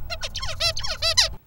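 A tutee songbird with a FOXP2 knockdown sings a series of about eight repeated downward-sweeping harmonic syllables, loud and close, ending abruptly in near silence.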